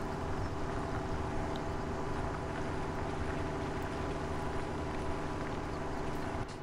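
Tractor engine in Farming Simulator 17, a steady, low droning hum that holds at an even level throughout, with no speech.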